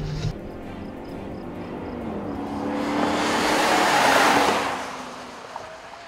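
A 2014 Dodge Durango R/T and a supercharged Range Rover Sport race side by side in a drag race. Their engines roar as the cars pass, the sound building to a broad rushing peak before fading away.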